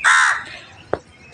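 One loud, rasping crow caw sounds outdoors in the morning. It fades out, then a sharp single click or knock follows on its own.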